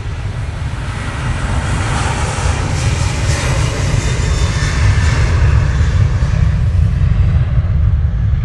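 A Boeing 737-800 bound for Porto roars loudly at Manchester Airport, a heavy, continuous low rumble with a hissing jet whine that swells slightly toward the middle.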